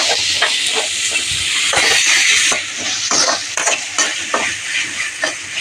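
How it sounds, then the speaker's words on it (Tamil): Tomatoes sautéing in a pan, a loud, close sizzle with steamy hiss and repeated scraping of a spatula across the pan, easing slightly partway through, with no voices. "நல்லா வதக்கிடுவேன் தக்காளி நல்லா வெந்து வரட்டும்"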